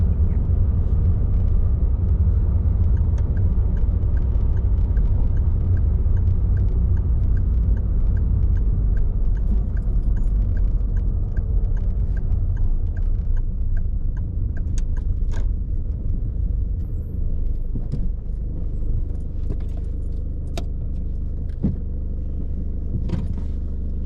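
A car drives steadily on the road during a driving test, its engine rumble and tyre noise continuous and close, easing slightly toward the end as it pulls over to the left.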